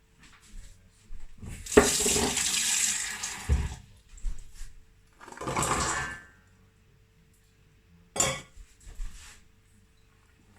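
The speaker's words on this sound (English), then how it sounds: "So I'm going to pour my berries and apple in." Berries and apple for an elderberry, hawthorn and rowan berry jelly poured into pots in several splashing, liquid bursts separated by quiet pauses.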